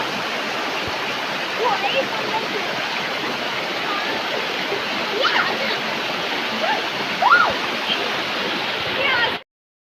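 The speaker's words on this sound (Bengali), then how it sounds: "আমরা পরেশনাথ পাহাড়ের মধ্যেই একটা ঝর্ণায় এসেছি।" A waterfall in the hills of Parasnath, a dense, steady roar of rushing, splashing water heard up close, with occasional faint voices in the background.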